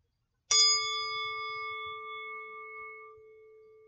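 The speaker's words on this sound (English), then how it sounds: "we'll ring our bell again" A single meditation bell is struck once and rings clearly, its bright metallic tone sustaining and slowly fading over several seconds in a quiet room.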